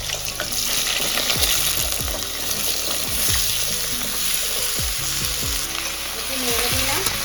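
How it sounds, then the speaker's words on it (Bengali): Potatoes hit hot oil already crackling with five-spice (panch phoron), giving a loud, steady sizzle and fry with repeated scraping stirs throughout, no voices. "আলুটা দিয়ে দিচ্ছি।"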